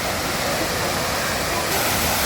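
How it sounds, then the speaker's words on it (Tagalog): Waterfall in Hong Kong Park pouring steadily, a dense, loud, continuous rush of water close by that fills the whole clip without a break. "Ang ganda ng tunog ng tubig."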